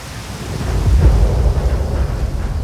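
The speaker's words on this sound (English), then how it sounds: "once you're in the storm, you'll start to hear rain hitting the windscreen." Heavy rain from a storm drumming on an airplane windscreen, a loud, dense low rumbling roar that swells and stays steady throughout, with no voices.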